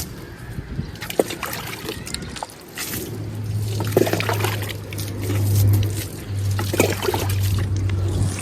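Water poured from a bucket onto a vehicle being washed by hand outdoors, a continuous splashing wash that swells in the second half over a low steady hum, with a few knocks and clatters early on.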